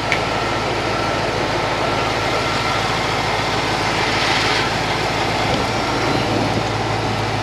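A 1991 Chevrolet Corvette ZR-1 with its LT5 engine idles steadily in a close, loud, even mechanical whir with a broad hiss of fan and accessory noise, no voices.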